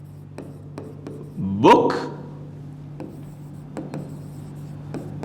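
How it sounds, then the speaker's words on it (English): Pen writing an example sentence on paper or a board, a series of short scratchy strokes and taps spread across the clip at close range, with a brief spoken word in the middle. "Let me write down the example."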